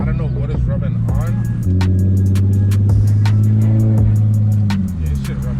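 A G37S with freshly installed 15mm wheel spacers drives along under a steady engine drone, while a rhythmic ticking scrape from a rubbing wheel repeats with each rotation; a voice talks over it.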